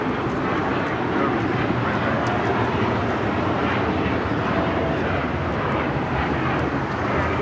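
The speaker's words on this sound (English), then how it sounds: "Takeoff is United Airlines Flight 801, taking off to Hong Kong on the 787-9 Dreamliner" A United Airlines Boeing 787-9 Dreamliner takes off from LAX, its engines a broad, steady roar at a distance that holds without a break.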